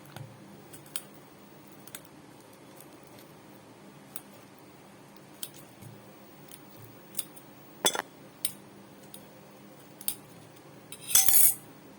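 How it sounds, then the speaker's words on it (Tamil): Two bananas being mashed in a bowl for rava kuzhi paniyaram. Sparse, quiet clicks of a utensil against the bowl are spread across the clip, ending in a short cluster of louder taps, with no talking. "ரெண்டு வாழைப்பழம் எடுத்திருக்கேன் அதை நல்லா கொஞ்சம் மசிச்சு விட்டுக்கலாம்"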